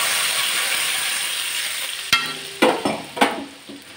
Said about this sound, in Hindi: पानी ऐड कर लूँगी।